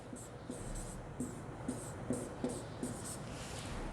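Chalk or marker strokes on a board during a math lesson on whole numbers, a steady series of short scratchy taps and squeaks with brief gaps, fairly quiet and close, no talk during it.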